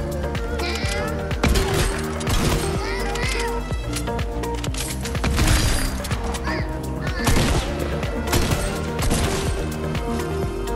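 Rapid gunfire in Fortnite while fighting enemies near a vault, dense bursts of shots mixed with busy game sounds and music, loud and continuous, with a voice talking over parts of it.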